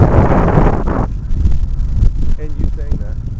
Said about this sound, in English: Pretty windy, but it really wasn't as windy just a second ago. It's definitely picking up,